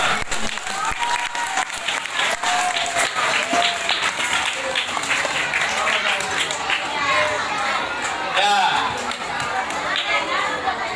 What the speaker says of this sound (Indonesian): beri tepuk tangan kepada kita semua.